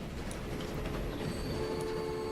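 A train departing in the video game Transport Fever makes a steady low rumble with a faint thin whine above it. The sound is continuous and even, with no talking over it.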